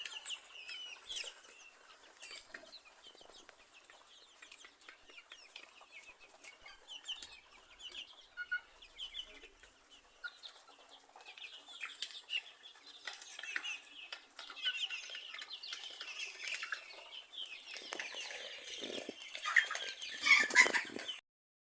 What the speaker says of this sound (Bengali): আমি মুরগি বেশি আছে এখানে